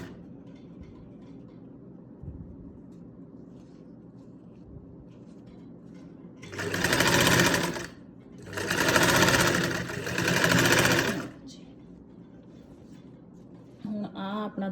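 Sewing machine stitching a fabric neckline, running in three close bursts of steady whirring with short pauses between, fairly loud against a quiet room.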